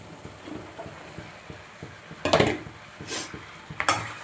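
Cut mushrooms added to cooked-down tomato gravy and stirred, a spoon clacking and scraping against the pan in several sharp bursts over faint, soft sizzling, with no voice.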